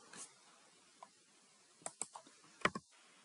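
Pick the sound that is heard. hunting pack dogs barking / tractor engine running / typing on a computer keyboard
typing on a computer keyboard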